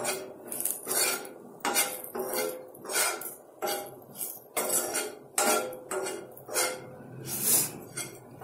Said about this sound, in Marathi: आता हे सगळे जिन्नस आपण छान मिक्स करून घेऊया